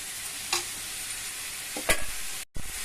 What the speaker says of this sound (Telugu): ఆ పేస్ట్ వేస్తున్నాను